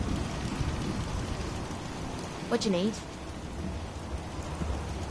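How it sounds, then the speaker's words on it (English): Rain in Fallout 4: a steady, dense hiss of rainfall with low rumbling runs throughout, and a brief voice speaks midway. "Damn rain is soaking right through me clothes."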